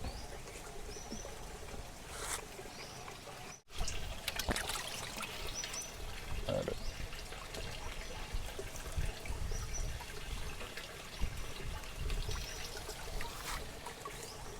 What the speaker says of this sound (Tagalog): Lagyan mo natin ulit ng tubig itong ating tangke.